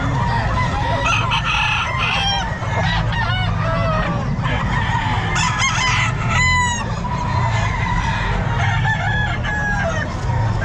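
Roosters crow repeatedly amid the clucking of other fowl at the Bocaue pet market, with steady crowd noise and occasional voices in the background.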